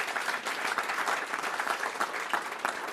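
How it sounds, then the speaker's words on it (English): Audience applause at a Transcendental Meditation talk for a veterans' wellness launch in America, a dense steady wash of many hands clapping that holds for the full three seconds with no talk over it. "One never likes to assume there'll be an applause there"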